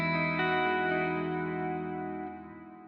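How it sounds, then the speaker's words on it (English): An electric guitar through the AmpliTube 5 American Clean amp simulation rings out a single sustained chord that slowly decays over about three seconds, alone with no talking. "This is now the American Clean."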